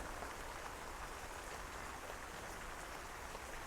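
Steady broadband hiss of heavy tropical rain approaching over a backyard homestead, a constant wash of noise with no breaks, fairly faint and distant-sounding.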